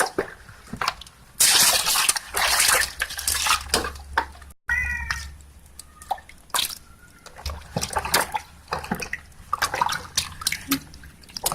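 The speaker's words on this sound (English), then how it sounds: "And then wash the cassavas until it's clean." Cassavas being washed by hand in water, with close splashing, dripping and rubbing in bursts, while a cat meows clearly over the washing partway through.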